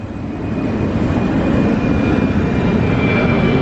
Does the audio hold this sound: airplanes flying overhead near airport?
yes